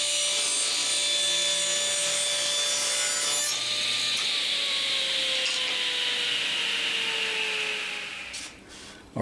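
A power saw cutting off a wooden handle piece for a locomotive shop project, a steady loud whine with a falling pitch as the blade bites into the wood, then winding down.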